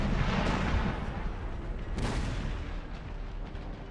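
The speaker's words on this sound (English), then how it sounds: "That is giving them a nice shot from this other artillery right down my lines." Artillery fire from the Empire: Total War Brothers vs. Brothers mod rolls as a dense, continuous rumble of distant cannon, with one sharper blast standing out midway.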